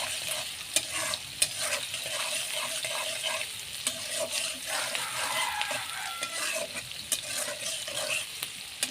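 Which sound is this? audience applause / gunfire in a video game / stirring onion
stirring onion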